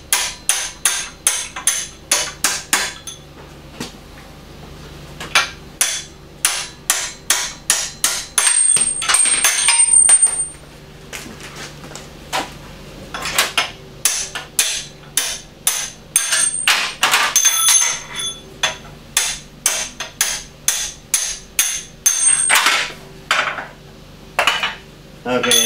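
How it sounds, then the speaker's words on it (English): Steel hammer blows driving 5/8 pins out of an American crane, sharp metallic strikes in fast repeated bursts with brief pauses, close and loud, alone with no talk. "we're gonna drive these 5/8 pins right out"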